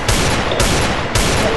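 Rapid gunfire from the Free Fire video game, loud bursts of shots repeating in dense volleys with a couple of sharp onsets, steady and close throughout.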